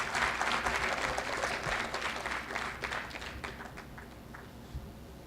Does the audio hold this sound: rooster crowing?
no